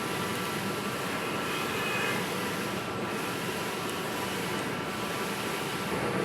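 A steady, loud mechanical whir and hum runs unbroken throughout from a sublimation printer's head-cleaning cycle, with no voices.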